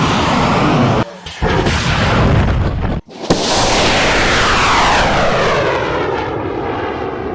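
An amateur rocket motor ignites and the rocket leaves the launch rail, a loud sustained roaring blast that briefly drops, then surges back with a sharp crack and fades as the rocket climbs away.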